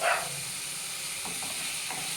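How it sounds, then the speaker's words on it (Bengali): Fried cauliflower pieces go into a pan of sizzling masala, a steady close hiss of frying that holds evenly throughout, with a brief louder burst at the very start. "এবার আমি আগে থেকে ভেজে তুলে রাখা ফুলকপিগুলো এর মধ্যে অ্যাড করে দেবো"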